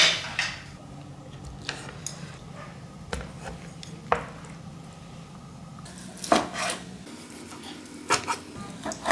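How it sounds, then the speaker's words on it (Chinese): Soaked pork hock being chopped into chunks on a board, a series of sharp, irregular knife thuds close up, with light clatter of kitchen utensils between strikes and no talking. "现在捞出来切成块"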